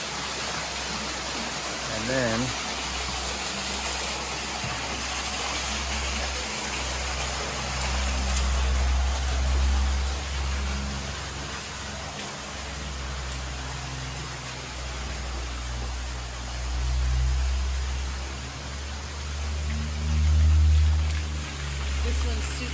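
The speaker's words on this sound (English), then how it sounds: "Waterfalls back in the cave." Waterfall splashing at the back of a small grotto cave at a hot springs resort in La Fortuna, Costa Rica; a steady rushing wash of water noise, with low rumbling swells and brief talk over it.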